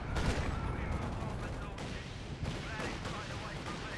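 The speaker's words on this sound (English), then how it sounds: "Everyone fire the mattresses here if you got them." Land Mattress rocket artillery fires in a 4v4 Company of Heroes 2 match on a wintry map, a dense rumble of launches and explosions layered with battlefield gunfire, loud and sustained.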